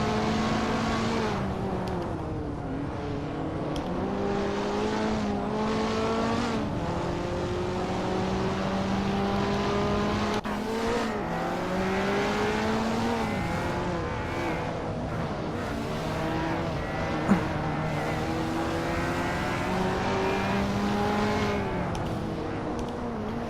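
Hot Wheels race car engines in a video game, a continuous loud buzzing drone of several cars revving and shifting pitch together for over twenty seconds, with faint commentary voices beneath.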